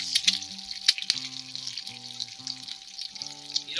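Eggs sizzle in bacon grease on a Coleman 4-in-1 grill, a steady close hiss with scattered crackles and pops throughout.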